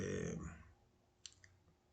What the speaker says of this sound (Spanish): clic en importar